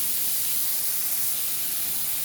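Squid sautéing in hot oil with garlic and onion, a steady, even sizzle that runs unbroken from start to finish at close range with no other sounds.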